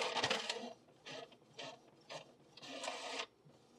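A printer works through a printed-circuit-board layout print, giving a series of intermittent mechanical whirring and grinding passes separated by short pauses, close and fairly quiet.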